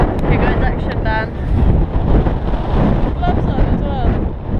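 Strong wind buffets the microphone beside a lake, a loud, steady roar and rumble that swells and eases throughout, with a few faint sounds briefly rising above it.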